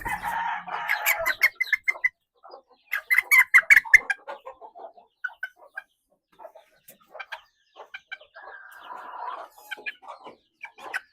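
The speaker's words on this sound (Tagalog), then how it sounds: "At ito ay inahin" Chickens clucking and squawking nearby in quick irregular bursts, with a crowing call near the start and scattered clucks continuing throughout.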